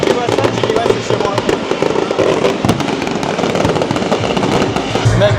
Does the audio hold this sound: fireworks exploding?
yes